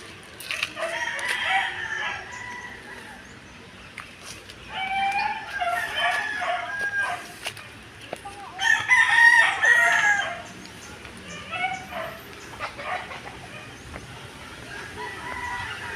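Chickens clucking and a rooster crowing outdoors at a rural Philippine barangay fiesta setting, with several bursts of crowing and clucking over steady background ambience.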